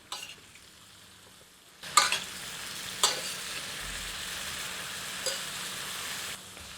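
Potato and brinjal curry is stirred in a pan, a ladle scraping and knocking against the metal over a continuous sizzle that swells after the first stir, close with no talking.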